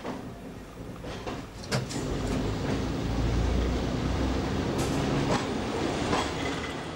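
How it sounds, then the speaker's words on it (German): A workshop-bound train of two coupled quarter-train units rolls along on its transfer run, a steady rumble with rhythmic wheel clicks and clacks over rail joints, building and holding at moderate loudness. "Unser RAW-Zug ist auf dem Weg."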